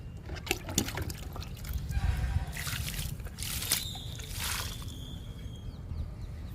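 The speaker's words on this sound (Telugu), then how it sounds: "ఇప్పుడు నేరేడు మొక్కకి వాటర్ ఇద్దాము" Water pours and trickles onto a young Java plum plant in a home garden, a steady quiet splashing with a few drips and brief background noises.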